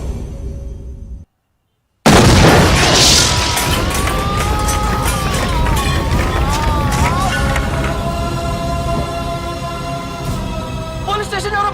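A bomb goes off at a police station in a Telugu movie scene: after a brief moment of silence, a sudden loud blast erupts into a sustained, dense roar that is mixed with dramatic music.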